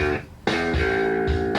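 A deep, distorted six-string bass played through a guitar amplifier rings out in sustained notes, with a brief gap before a thick, buzzing tone swells back in, played alone.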